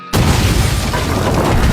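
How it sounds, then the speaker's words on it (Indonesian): A horse carriage explodes: a sudden loud boom bursts in after a brief quiet moment, followed by a sustained roaring, crackling rumble that stays loud to the end. "tiba-tiba kereta tersebut meledak begitu saja"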